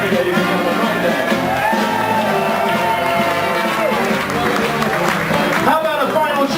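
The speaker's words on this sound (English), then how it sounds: "Let's hear it for Mary, ladies and gentlemen, right there." Cruise ship audience applauding and cheering for a crew member, a loud dense wash of clapping and shouts with music and voices mixed in throughout.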